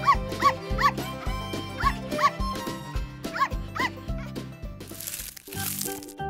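A farm dog barks in a series of short, sharp yaps, each followed by a low thump, close and fairly loud, ending with a rustling crinkle.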